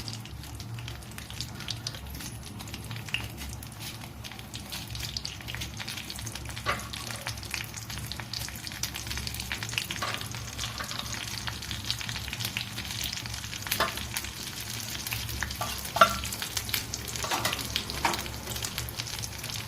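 Chopped dried red chillies fry in hot oil with a soft, steady sizzle and occasional stirring taps, heard close with no talking.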